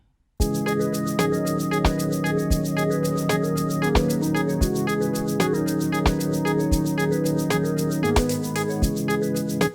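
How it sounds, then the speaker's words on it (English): A programmed shaker ticks in a steady, crisp pattern over an amapiano beat made in FL Studio, riding above sustained piano chords and regular deep kicks, loud and upfront. "So let's play this the shaker now."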